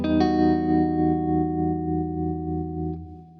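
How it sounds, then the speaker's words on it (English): An electric guitar with tremolo and heavy reverb plays a sustained chord, then a second chord rings out and slowly decays with a pulsing, wavering shimmer. "if you put tremolo on it, it sounds really, really cool, and loads of reverb as well"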